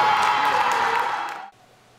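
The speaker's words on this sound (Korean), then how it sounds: "멋진 경기에 관객들의 환호성도 이어졌습니다" Spectators cheer at a 1 m springboard diving final at the national sports festival, a loud sustained roar of voices that fades and cuts off after about a second and a half.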